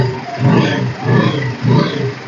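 A 2009 Bajaj Pulsar 150 motorcycle engine, fired by its self-start, runs with a deep, close rumble that swells in three throaty surges, loud and with no voices over it.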